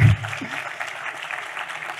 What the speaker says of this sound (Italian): applauso, applauso, bravissimi